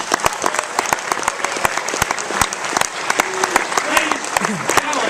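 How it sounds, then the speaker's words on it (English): Studio audience applauding game show contestants, with loud, close, irregular hand claps over a crowd murmur, and voices and a brief tonal whistle coming in toward the end. "let's have a round of applause for our contestants"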